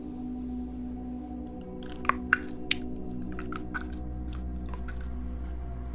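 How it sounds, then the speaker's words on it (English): Wet, squishy chewing and a few sharp biting crunches from someone eating a raw liver, close up over a steady low hum, with brief louder bites partway through and continued mastication. "chewing it around"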